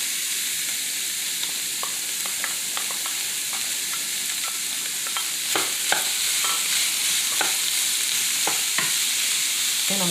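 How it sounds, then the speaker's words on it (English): Ground meat, sausage and onions frying steadily in a pan for a lasagna roll filling, with a constant loud sizzle and scattered clicks of stirring, no voices. "we're gonna go ahead and put this meat right on into this pan. Also, in here I'm gonna add my onions"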